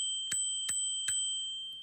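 A bicycle bell rings three times at an even pace, bright and clear against near silence, followed by a faint fourth ding.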